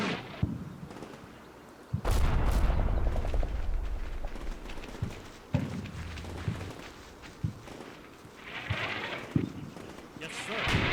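Artillery fire in a realistic US Marine simulator video game: a heavy booming blast with rolling rumble, followed by scattered thuds, footsteps and bursts, with voices talking over the battle.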